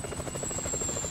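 A helicopter in the video game Grand Theft Auto 5 thrums with a fast, even rotor chop under a steady high whine, moderately loud and continuous throughout.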